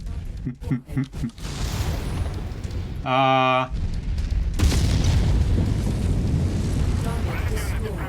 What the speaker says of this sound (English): That mech is going critical.